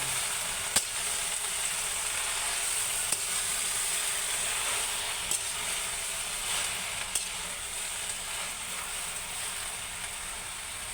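Water spinach (kangkong) hits a hot pan and sizzles loudly and steadily, a dense frying hiss with a few brief clicks and pops throughout.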